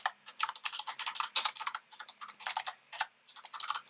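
Rapid, uneven keystrokes on a computer keyboard, close and clear, coming in quick bursts with short pauses while text is entered into a WordPress page editor.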